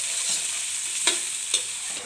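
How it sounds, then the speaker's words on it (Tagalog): Winged beans tossed and stirred in a frying pan, a steady close hiss of frying with a few sharp spatula scrapes against the pan. "nilagay na po natin ang ating sigarilyas. Inekos-nekos po natin."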